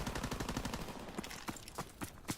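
Rapid bursts of automatic gunfire from a World War II multiplayer shooter in Call of Duty WWII, a steady rattle early on that thins into scattered, sharper shots near the end.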